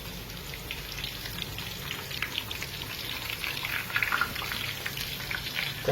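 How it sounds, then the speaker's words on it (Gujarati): Pindiya dumplings deep-frying in hot oil, a dense crackling sizzle with bubbling pops that runs steadily and close, growing slightly busier toward the end. "તમે આને તેલમાં તળશો તો જ આવી રીતે આ સરસ પાકશે."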